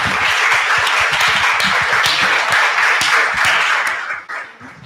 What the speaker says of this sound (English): maybe we can have a round of applause to finish off